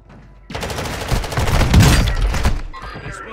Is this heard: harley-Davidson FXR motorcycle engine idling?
no